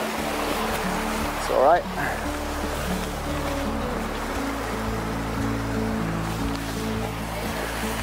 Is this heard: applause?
no